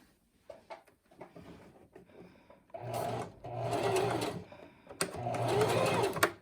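Sewing machine stitching fabric for a knife pleat, running in two loud bursts of steady whirring with quieter handling noises and pauses between them, close to the listener.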